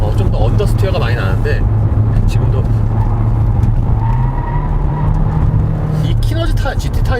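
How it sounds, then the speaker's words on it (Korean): A 2019 Hyundai Sonata Hybrid corners uphill on Synergy GT tires, with a steady low engine and road drone and a faint tire skid beneath it while someone talks throughout. "오히려 이 차에서는 좀 타이어 스키드음이 좀 덜 나는 것 같아요"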